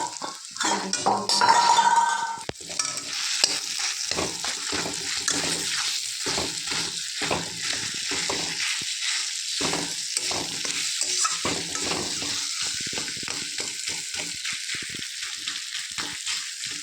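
Boiled potato filling for aloo paratha frying in a pan, a steady sizzle under repeated scraping and clinking strokes of the stirring spoon, with a louder burst at the start and then an even rhythm.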